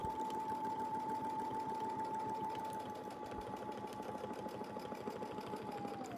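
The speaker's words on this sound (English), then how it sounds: "And then I'll just sew in." A sewing machine stitches a quilt project, running with a fast, steady mechanical rattle of the needle and a constant motor whine, fairly close and uninterrupted until it slows at the end.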